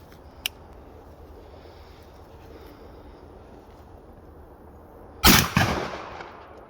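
A Remington 1100 shotgun fires a Suprema shell with the gas port opened to .085, one loud close blast with a short echoing tail after a long quiet stretch and a faint earlier click.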